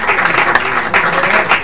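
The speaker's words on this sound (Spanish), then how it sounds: "Un fuertísimo aplauso, caballero" Loud, steady applause from a live audience at a Cuban music show, dense clapping filling the whole stretch without a break.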